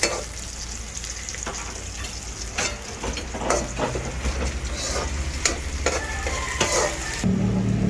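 Chopped onion sautéing in a pan for a vegetable dish, a continuous sizzle broken by repeated scraping stirs of the spoon against the pan, close and steady with no talk.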